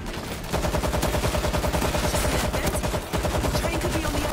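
Machine gun fire in the video game World War Z, a rapid, loud, continuous burst of shots that stops briefly near the end and then resumes.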